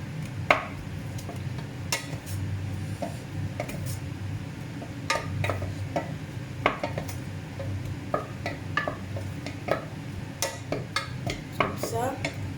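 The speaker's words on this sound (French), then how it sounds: "Je vais mettre mes oignons." Onions going into a pan for meat spring rolls and being stirred, with scattered clinks and scrapes of a utensil against cookware over a low background hum and a faint sizzle, close and fairly quiet, no talking.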